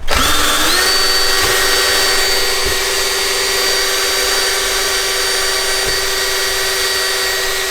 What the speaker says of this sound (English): We found a drill.